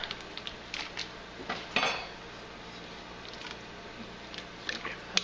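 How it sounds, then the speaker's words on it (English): A spoon stirring bean and ham soup in a metal pot, giving a few soft scraping clinks and one louder knock against the side, spaced out over a quiet kitchen background. "give this a little stir"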